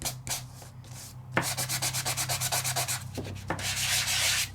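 Sandpaper rubs across a craft surface in quick, even back-and-forth strokes, a rhythmic scratchy rasp close by after a few scattered scrapes at the start; no talking.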